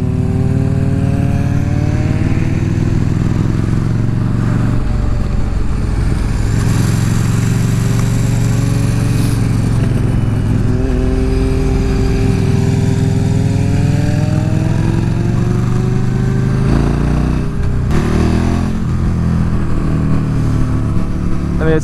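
A motorcycle laps a race track, its engine loud and close throughout, rising and falling in pitch as it revs through the gears, with shifts and wind roar over a constant drone.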